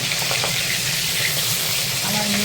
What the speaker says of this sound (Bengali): এই যে মাছগুলো ভাজা চলছে